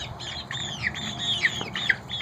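Chickens in a farm pen let out a rapid run of high, scratchy squawks, several short calls repeating close by over a faint background.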